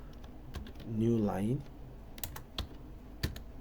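Computer keyboard typing C code in the Vim editor: scattered sharp key clicks spread across a few seconds, with a brief spoken phrase partway through.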